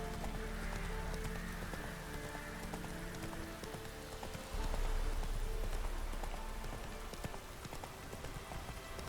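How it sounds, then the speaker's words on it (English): Steady rain falls across the Velen countryside in The Witcher 3 video game, a continuous broadband hiss with horse hoofbeats clopping through it and a louder surge of downpour midway. "It's another rainy day here in Velen."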